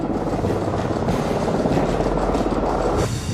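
A helicopter thumps loudly and steadily close by, its rotor chop and engine roar filling the whole stretch.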